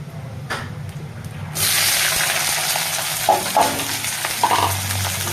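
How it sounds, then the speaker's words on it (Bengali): Onions and green chillies hit hot oil already seasoned with cumin seeds and whole garam masala, bursting into a loud, steady sizzle partway through that continues with faint stirring scrapes. "এবার দিয়ে দেবো পেঁয়াজ আর কাঁচা লঙ্কা"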